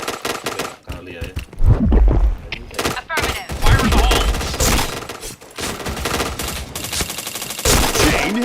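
Rapid automatic gunfire bursts rattle almost nonstop through a Point Blank online shooter match, with loud chained shots, thuds and game effects layered densely over several seconds.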